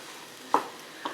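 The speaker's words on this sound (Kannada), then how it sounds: "ಆವಾಗವಾಗ ತರಕಾರಿನ ಚೆನ್ನಾಗಿ ಮಿಕ್ಸ್ ಮಾಡ್ತೀರಿ, ಇಲ್ಲಾಂದರೆ ತರಕಾರಿ ಕೆಳಗಡೆ ಬಾಣಲೆಗೆ ಅಂಟ್ಕೊಳ್ಳೋಕೆ ಶುರು ಆಗುತ್ತೆ" Vegetables cooking in a pan being stirred, with two short scraping strokes of a utensil against the pan over a soft background hiss, the first stroke louder than the second.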